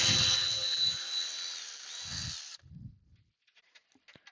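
A Milwaukee cordless impact wrench with a Snap-on socket runs a strut nut on a 2005 Toyota Camry: one long, loud, whining burst, then a few short hammering pulses and faint clicks.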